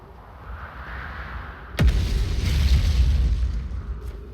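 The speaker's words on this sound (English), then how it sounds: "I'm getting used to the explosions and not jumping every time they occur" A single sudden boom in the space exploration game Outer Wilds cuts through a quiet ambient hum, then a deep rumbling roar swells and slowly fades.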